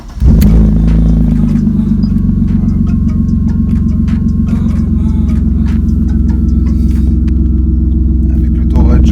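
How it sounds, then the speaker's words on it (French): A Honda S2000 (S2K) drift car fires up on its first cold start of the morning, then settles into a loud, close, steady idle rumble that runs throughout. "je vous la démarre à froid. C'est le premier démarrage du matin."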